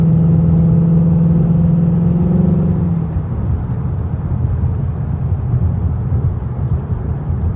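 A truck engine idles steadily while warming up, close and loud, its low drone settling slightly lower after the first few seconds; no talking.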